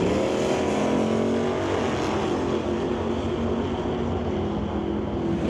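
A Pontiac Firebird and a Chevrolet Camaro drag race at an old-time drag meet at Mission Raceway Park, engines roaring in a loud, steady sustained drone with a rising pitch and no voices.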